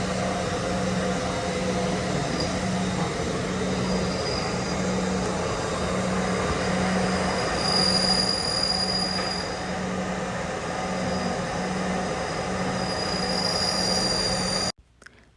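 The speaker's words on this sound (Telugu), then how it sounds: "Please wait while we duplicate your key." A key duplicating machine at a Walmart cuts a key with a steady, loud whirring grind that runs without a break for about fifteen seconds, then cuts off abruptly.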